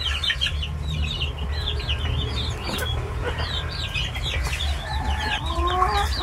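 Several chickens clucking in a coop, a busy overlapping chorus of short, close clucks and chirps over a steady low background hum.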